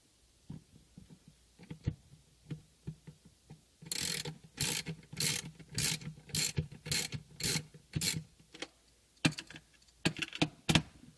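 Ratchet wrench loosening 10 mm bolts on a car clutch, a run of sharp clicking bursts in steady rhythm after a few scattered taps, close up and alone.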